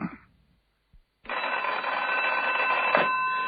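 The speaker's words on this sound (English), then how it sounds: "Until the telephone rang." A telephone bell rings in a radio drama, a sustained electric ring that begins abruptly after a short silence and continues steadily, fairly close, following a brief earlier sound.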